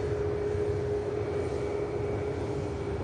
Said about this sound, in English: Here's the EasyJet. Amsterdam inbound.